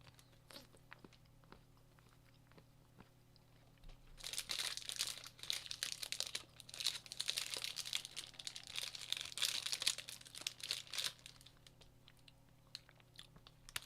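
Chocolate munched up close for eating ASMR: a dense run of crisp crunching, crinkling and wet chewing bites that starts after a quiet lead-in, holds steady for about seven seconds, then tapers back to sparse small clicks.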